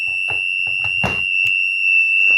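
An electrical alarm in a contactor test circuit holds a steady, piercing high tone without a break. Faint clicks and handling noises sound underneath it.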